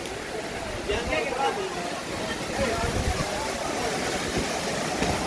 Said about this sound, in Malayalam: നമുക്ക് വെള്ളച്ചാട്ടത്തിൻ്റെ താഴത്തേക്ക് ഒന്ന് പോയി നോക്കാം